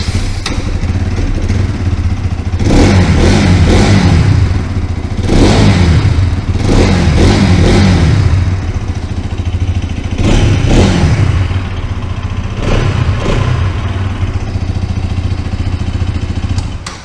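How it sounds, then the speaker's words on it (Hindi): A Bajaj Pulsar NS200 motorcycle with an underbelly exhaust idles loud and close with a deep bass thrum, broken by a series of sharp throttle blips that rise and fall in quick pairs. "तो NS200 का कुछ इस तरह का साउंड मिलेगा, काफ़ी बेसी साउंड मिल जाता है अपने को।"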